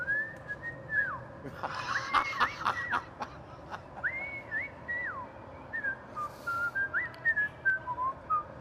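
A person whistles a simple tune in clear, sliding notes, with short pauses between phrases and faint background noise throughout.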